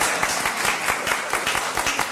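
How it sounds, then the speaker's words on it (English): Audience applause at a Boynton Beach city commission meeting: a steady, fairly loud wash of many hands clapping, with no pauses, carrying on throughout. "Lastly, you can clap."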